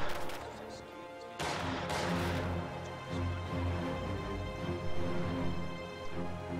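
An infantry support gun fires in a strategy video game, giving heavy booming shots over a dense, continuous battle din with other gunfire and crashes throughout.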